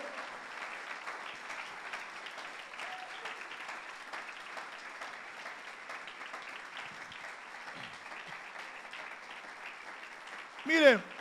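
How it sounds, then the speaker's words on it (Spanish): Congregation applause fills a church service, a steady wash of clapping that carries on at a moderate level throughout, with a brief louder burst near the end. "Aplaude al que vive."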